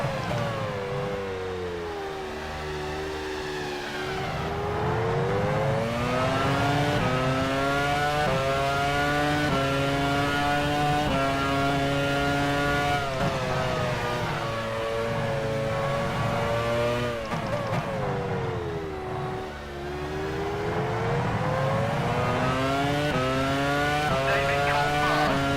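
Race cars in the F1 Challenge '99-02 video game scream past with loud, continuous high-revving engines. Pitch rises and falls with gear changes and sweeps, steady and close with no talk over it.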